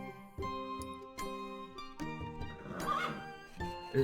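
A horse whinnies several times over game-style background music in the video game Stronghold, the neighs loud and close with a sharper cry near the end.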